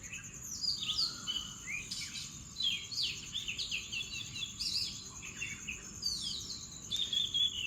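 Birds sing and chirp outdoors in the morning in a village setting. Several birds call in quick, overlapping phrases at a moderate distance, with a faint insect drone underneath and no talking.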